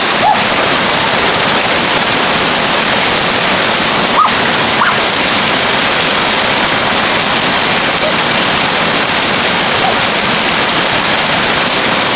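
A newly discovered waterfall with very cold water roars in a steady, loud broadband rush that stays constant throughout, close and dominant, with only a couple of brief faint knocks breaking through.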